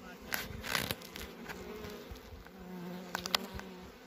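Bees buzzing around their hives, a steady swarming drone with a few louder passes close by, while a faint voice speaks in the background.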